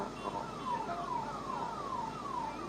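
An ambulance siren passes a political road show, wailing in repeated rising-and-falling sweeps at a steady pace, clear and moderately loud above a low background rumble.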